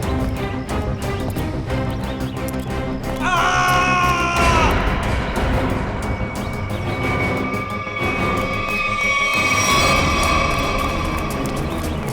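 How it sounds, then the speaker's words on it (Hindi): A loud, strained scream rises over a dense, noisy background, with harsh cries and shrill tones continuing throughout. "ये आवाज, ये चीखने की आवाज कहां से?"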